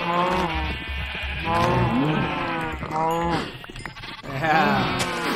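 Sheep bleat in Minecraft 1.7.10 with the Direwolf20 mod pack, the calls repeating across the clip alongside a continuous game background tone.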